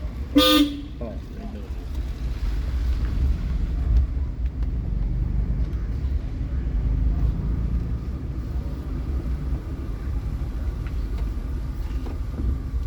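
A single short car horn toot near the start during a driving lesson, then steady traffic rumble and engine noise with people talking throughout.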